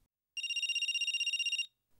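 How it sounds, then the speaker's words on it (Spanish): A telephone rings early in the morning, one steady, bright electronic ring lasting just over a second, close and clear with silence around it. "pero muy a las 6:15 de la mañana sonó el teléfono"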